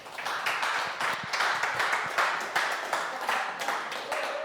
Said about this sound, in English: Would you give a round of applause as he comes to the stage, Josiah Sjöström.